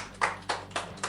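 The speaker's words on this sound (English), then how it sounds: "stop with the clapping" Hand clapping at a podcast recording, four sharp, evenly spaced claps close to the microphone over a quiet room hum.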